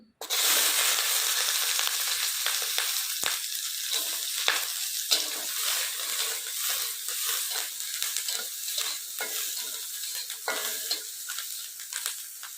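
Chili and garlic frying in a little oil during village cooking of boal and puti fish with black cumin, a close, continuous crackling sizzle with sharp pops and occasional stirring scrapes, no voices.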